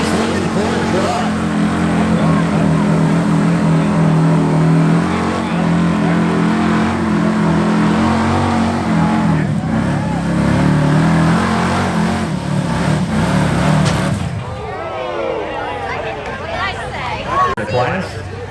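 A Ford truck's gas engine roars and revs at full throttle during a street gas truck pull, a loud, dense, continuous engine blare with voices mixed in, before the roar drops away into lighter crowd and engine noise at the end.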